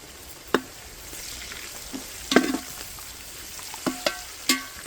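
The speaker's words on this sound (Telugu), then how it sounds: "కరివేపాకు కూడా వేసేసుకుని ఇలాగ ఫ్రై చేసేసుకోవాలి." Curry leaves fry in hot oil in a pan while a Konaseema-style fish curry is being made, giving a steady soft sizzle with several sharp pops and crackles scattered throughout.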